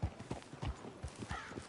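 Horse hooves clip-clop at a steady walking rhythm in the video game Red Dead Redemption 2, about a dozen soft, even thuds over under two seconds, faint and close with no talk.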